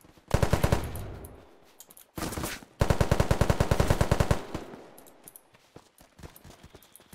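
Rapid machine-gun bursts in the game Unturned: a short burst, a pause, then a longer sharp rattling string, loud and close, trailing off into scattered shots.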